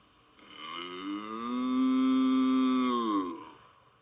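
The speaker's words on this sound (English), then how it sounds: "What animal gives us milk? I know. A cow. Moo." A single long, sustained cow moo, loud and close, swells steadily and then tapers off, with no other sound around it.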